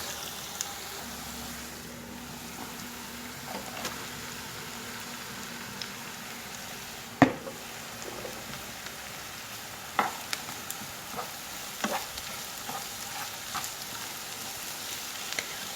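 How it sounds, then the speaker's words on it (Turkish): Eggplant being sautéed and stirred in a frying pan with onions in oil. A steady, close sizzle runs throughout, and occasional scrapes and knocks from the stirring utensil cut through it. "patlıcanlarımızı da karıştıra karıştıra kavuruyoruz."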